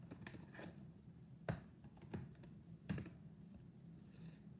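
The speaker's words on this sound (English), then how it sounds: "Type your password." Someone types a password on the keyboard of a 15-inch Microsoft Surface Book 2, giving soft, close key clicks in an irregular rhythm with a few sharper taps and no talking.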